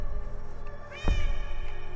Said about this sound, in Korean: 고양이 소리!